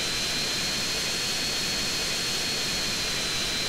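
Steady jet engine roar from a military jet in the video game GTA San Andreas, a continuous broadband whoosh with a faint high whine, unchanging and without talk.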